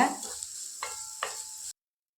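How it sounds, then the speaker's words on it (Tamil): Small dry fish frying in oil in a pan, a close crackling sizzle with two or three distinct stirring scrapes before it cuts off abruptly. "நல்லா எண்ணெயிலேயே வறுத்து விட்டுருங்க."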